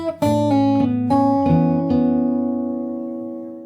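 Fingerstyle acoustic guitar playing part of a song, a handful of plucked notes and chords stacking into a sustained ringing chord that slowly fades, clear and alone.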